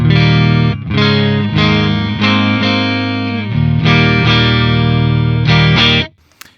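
An electric guitar through a Synergy Syn20IR amp with OS module plays loud sustained chords and notes with a short pause, its tone rich and slightly driven, ringing until a sudden stop.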